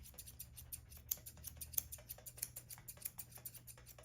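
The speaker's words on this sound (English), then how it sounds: "I like to use my 8-inch curve shear on her rib cage" Curved 8-inch grooming shears snip through a poodle mix's coat around the rib cage, a steady run of quiet, crisp metallic cuts at an even close rhythm with no talking.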